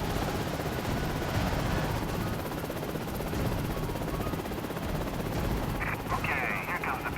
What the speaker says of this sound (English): So helicopters in this game are really fun.